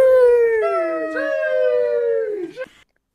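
A dog gives a single long howl, close and loud, sliding gradually downward in pitch for nearly three seconds before breaking off into silence.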